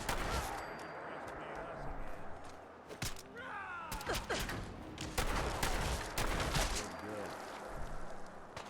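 Gunfire in Fallout 4: repeated sharp shots and bursts crack out over a busy battle soundscape, close and loud, with a voice speaking at times.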